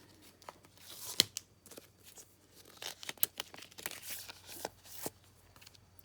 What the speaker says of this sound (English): I am going to cut that out with the Stylish Shapes dies